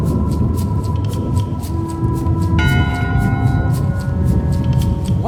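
In Return to Monkey Island, a bell rings to call a vote, one loud clear strike that swells and then rings on with a long, bright decay over a busy background of ambient game sound.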